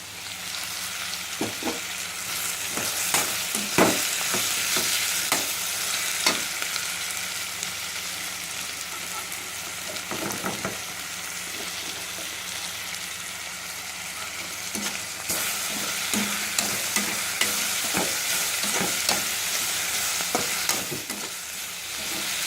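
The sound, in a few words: coconut and cashew nuts frying and being stirred in a pan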